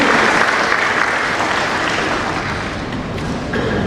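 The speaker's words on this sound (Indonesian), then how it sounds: "Sekali lagi mari kita beri tepuk tangan yang meriah" Audience applause at the installation ceremony of a Pemuda Batak Bersatu DKI Jakarta regional leader, a dense, steady roar of many clapping hands that fills the whole stretch.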